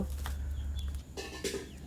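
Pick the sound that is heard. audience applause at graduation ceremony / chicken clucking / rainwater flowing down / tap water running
chicken clucking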